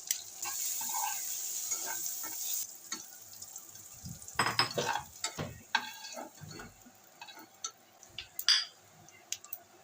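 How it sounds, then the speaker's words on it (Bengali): Potatoes fry with a little turmeric in a pan, a soft continuous sizzle broken by clattering spatula stirs and scrapes against the pan, close and fairly quiet, with no speech. "আলুগুলোকে আমি ভেজে নেবো হালকা একটু হলুদ দিয়ে দেবো"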